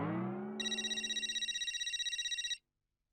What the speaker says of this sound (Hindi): शैतान का नाम लिया और शैतान का फोन आ गया